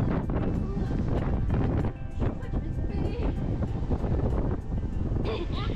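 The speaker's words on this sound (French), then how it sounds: "Il y a plein de vent ici." Heavy wind roars steadily against the microphone outdoors in Malta, with brief voices and movement sounds mixed into the blustery noise.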